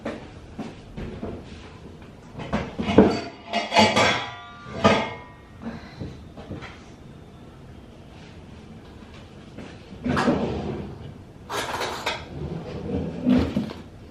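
Flour is scooped for pancakes from a plastic container in a home kitchen: a series of hollow plastic knocks, scrapes and rustles come in uneven clusters with quiet gaps between, close by.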